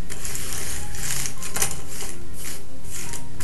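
Jigsaw puzzle pieces are shuffled close up, making a dense, continuous clatter of small pieces rattling and knocking against each other.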